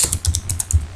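Keystrokes on a computer keyboard while entering a formula, a quick run of about eight crisp clicks in an uneven rhythm, close and clear with no talking.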